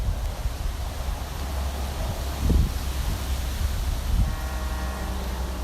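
Wind gusts buffet the outdoor microphone with steady low rumbling noise beside a railway line during freight switching at a sawmill and pulpwood spur, swelling in two stronger bursts.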